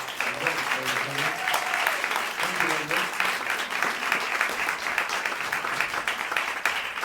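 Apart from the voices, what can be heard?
audience applause for jazz musician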